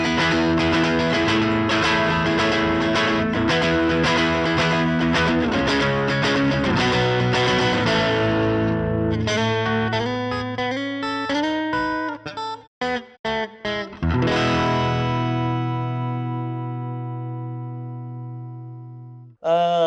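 Electric guitar through a Caline overdrive pedal at mid gain, with the mid pickup selected: crunchy, driven strummed chords and riffs, then choppy muted stabs, ending on a long sustained chord that rings out and fades.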